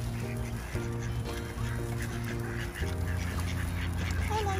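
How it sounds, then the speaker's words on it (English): Ducks and geese at a waterside home call together, a steady mix of quacks and honks that carries on throughout without a break, fairly loud and close. "Show you the ducks."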